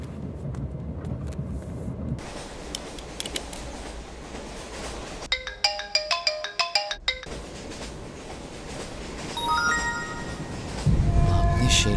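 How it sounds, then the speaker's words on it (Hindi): An incoming call ringtone on a mobile phone chimes in a rhythmic melodic burst, loud and close, set against a steady background rumble, with no talking. "पापा का फोन आ रहा है पर फोन चार्ज नहीं है।"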